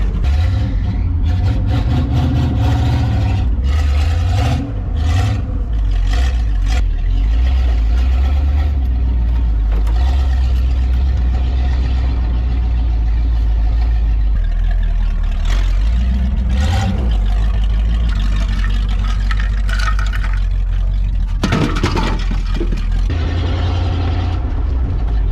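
A 1979 Jeep CJ-7 with a 304 V8 engine drives along with a loose ball joint, its engine droning loud and steady close by. The engine pulls and revs through shifts, with no talking over it.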